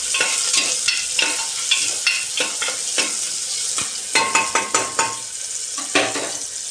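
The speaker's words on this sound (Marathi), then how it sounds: "कांद्याला चांगलं ब्राऊन होऊ द्यायचं" Chopped onion fries in hot oil for chicken curry, a steady close sizzle under brisk stirring with a metal spoon scraping and clinking against the pan.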